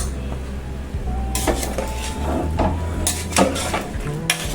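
Chicken, potatoes and sprouts stirred in a pan for a sprouts chicken masala, with a spoon scraping and clattering against the metal in irregular strokes over a low background hum.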